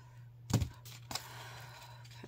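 Scissors cut fabric while trimming a jean-pocket angel craft, making two quiet, crisp snips about half a second apart over a low steady hum.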